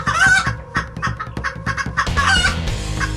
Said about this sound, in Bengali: সব মুরগিগুলো সমস্যারে ডেকে ওঠে।